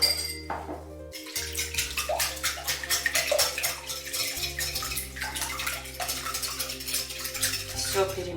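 A spoon scrapes and clinks steadily around a bowl, mixing chak-chak dough ingredients of salt, sugar and cognac, a close rhythmic stirring with a low hum beneath it.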